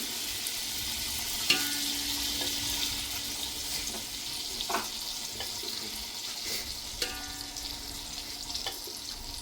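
Butter and oil heat in a pan for home-style chicken pulao, giving a soft continuous sizzle with a few light clinks and scrapes and no talking.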